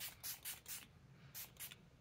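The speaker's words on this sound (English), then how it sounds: "This is the Hard Candy Sheer Envy long wear setting spray." Hard Candy Sheer Envy long-wear setting spray hisses out in five short bursts, a quick run of three, a pause, then two more, close and crisp.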